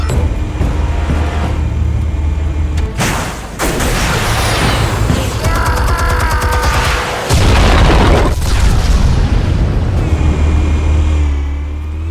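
Explosives detonating in Batman: The Telltale Series, several heavy booms and crashing blasts with rumbling low end and debris, loud and close, broken by brief pauses across the stretch.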